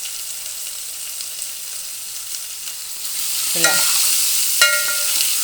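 Urad dal and turmeric fry in hot oil with garlic, a soft steady sizzle close by, followed by a couple of sharper metallic clinks of a utensil against the pan; a single spoken word.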